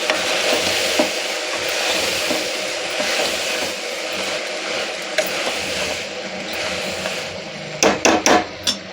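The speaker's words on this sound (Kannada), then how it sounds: "ಉಪ್ಪು ಹಾಕಿ ಕೈ ಆಡ್ಕೊತಾ ಇದ್ದೀನಿ" Salted sprouted green moong is mixed by hand in a cooking pot, giving a steady close rustling, scraping texture throughout, with a quick run of sharper knocks near the end and no talking.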